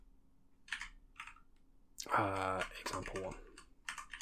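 Keys on a computer keyboard are typed in short bursts of clicks, with someone speaking briefly between them.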